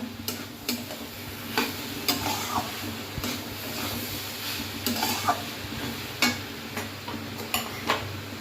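Banana flower fried with potato in a pan: repeated spatula scrapes and taps strike every second or so over a continuous close sizzle, with no one talking.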